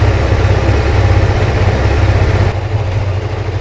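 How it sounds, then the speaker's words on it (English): A Kawasaki GPZ600R ZX600A Ninja motorcycle idles on choke at about 1500 rpm, a loud, close, steady throb with an even pulsing rhythm that drops slightly near the end. "I've got it on choke at around 1500 revs, because if I take the choke out it will stop"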